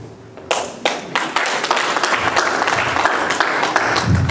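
Audience applause bursts out at a Congolese community event in Montréal, a room full of clapping hands that starts abruptly and stays loud and dense for several seconds, with a few sharper nearby claps.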